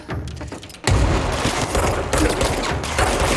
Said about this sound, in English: Whoa, grenade.